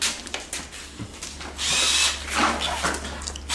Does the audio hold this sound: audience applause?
no